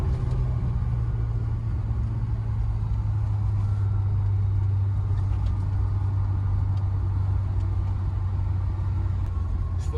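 Inside a Porsche 944 on the road, the engine keeps up a steady, low rumbling drone with road noise throughout.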